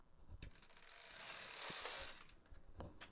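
A knitting machine carriage making a free pass across the needle bed: a soft, quiet mechanical sweep that swells in the middle, with faint ratcheting clicks at either end.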